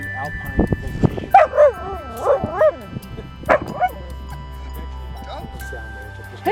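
Kaya the dog, out on an alpine trail near Lake Placid, gives a run of close, high, wavering whines and yips, several in quick succession, then falls mostly quiet.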